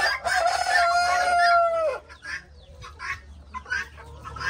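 Roosters on a rural farm give a loud, close crow with a long sustained note, followed by scattered softer clucks and calls from chickens nearby.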